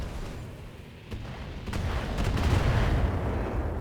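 A Centurion mech fires on a Hunchback in modded Battletech, a muffled heavy weapon report followed by a rising rumbling impact that swells and holds near the end.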